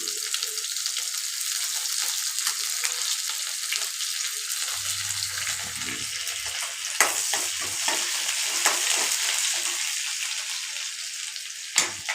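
Curry leaves go into a pan of sautéed onions, a steady bright sizzle with stirring scrapes and a few sharper spatters and clinks, close and continuous with no talk.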